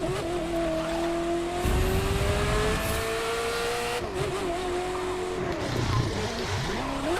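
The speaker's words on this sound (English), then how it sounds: "Drifting action." In the racing video game The Crew 2, a car drifts with long sustained tire squeals over a steady, loud engine drone, the pitch shifting as the slide continues.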